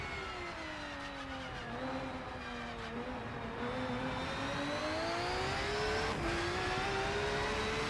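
A race car engine in the Rennsport racing video game holds a steady, smooth whine. Its pitch sags and climbs as the car brakes and accelerates through gear changes, and the sound plays on alone without letup.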